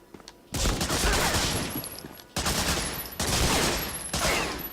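Medal of Honor Frontline gunfire: dense, continuous volleys of rifle and machine-gun shots in long loud bursts with brief gaps, harsh and close.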